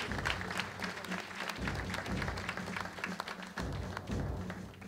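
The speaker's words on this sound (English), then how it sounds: "A round of applause for Carol, please." Audience applause at a 25th anniversary luncheon, fairly faint and distant: a room of people clapping steadily with some thumps and taps mixed in, continuing evenly for several seconds.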